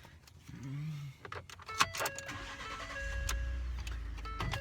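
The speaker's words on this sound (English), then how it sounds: "I'm just gonna start the vehicle." Keys jangle close by before a vehicle engine cranks and catches, then settles into a steady, loud low rumble of idling that runs to the end.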